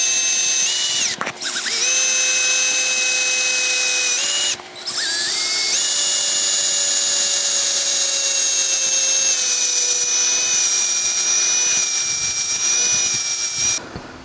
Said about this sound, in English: these holes I'll drill first with 1/8 inch and then I'll enlarge them.